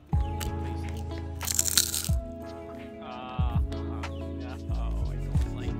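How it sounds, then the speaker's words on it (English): Small Korean traditional snack cracker balls are crunched several times at close range, giving sharp, brittle crackles with pauses between bites over a steady musical background. "But listen to the crunch."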